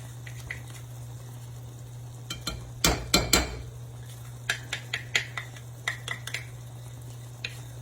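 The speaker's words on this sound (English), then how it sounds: "this is where we will stir in our 1/2 cup" Peanut butter being stirred into a no-bake chocolate oatmeal cookie mixture, a cluster of close scraping spoon knocks followed by lighter intermittent taps and scrapes over a steady low hum.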